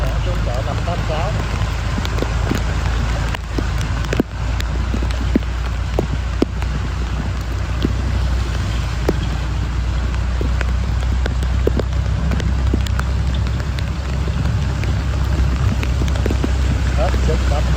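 Heavy rain pours steadily onto a flooded street, a dense continuous hiss and patter with scattered splashes, while a voice talks over it.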